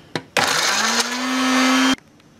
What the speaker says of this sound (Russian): Взбили блендером перец и чеснок.